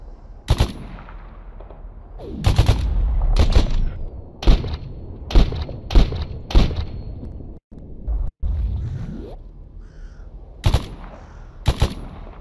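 Repeated gunshots and short bursts of automatic fire in the Stalker Anomaly game ring out loud and sharp, spaced irregularly across the clip, with a few quieter pauses between volleys.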